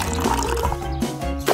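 Water pours steadily into a fish bowl holding a freshly caught fish, a continuous liquid fill that carries on under a bright music track for the whole moment.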